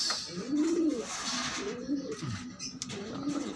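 Pigeons cooing close by, several soft, low rolling coos repeating in a slow rhythm over faint background noise.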